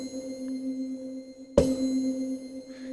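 A single held synth note from Native Instruments Komplete 11 Kinetic Metal rings as a steady metallic tone shaped by sine-wave modulation, with a sharp clanging burst striking midway before the tone continues.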